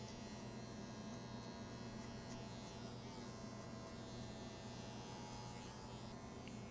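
A hair clipper hums continuously with its lever fully open during a mid drop fade haircut, a steady, even electric buzz that stays level throughout with no voices.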